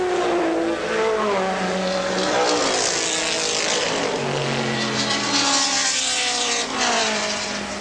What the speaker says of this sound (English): The pole sitter in his Porsche Turbo. Picking his way through slower traffic, lapping cars.